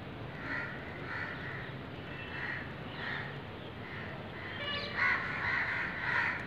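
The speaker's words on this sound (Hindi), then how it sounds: "चिड़ियाओं की, कौओं की चहकने की आवाज़ें आ रही हैं।" Many crows caw together in a repeated, overlapping chorus on a cold-wave day in Meerut, the calls fairly near and growing busier toward the end.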